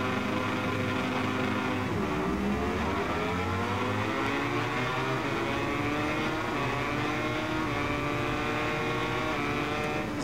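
Many motorcycle engines roar together at a race start at Le Mans in the video game MotoGP 21, a dense, continuous droning whine with pitches rising and shifting as the bikes accelerate.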